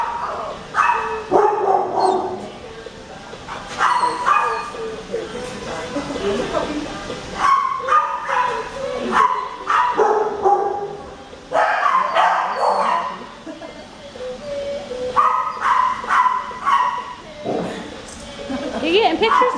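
Several dogs bark, yip and whimper in loud, repeated bursts inside an animal shelter, with people talking close by in between.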